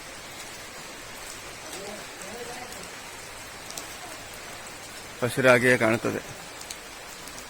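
Steady rain patters on a surface throughout, a soft, even hiss, while someone speaks briefly near the end.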